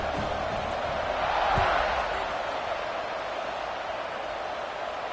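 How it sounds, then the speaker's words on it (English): Stadium crowd buzzing in a college football video game, Penn State at Oregon, a dense steady roar of many voices that swells slightly in the middle and stays loud throughout. "this crowd is buzzing after that last score"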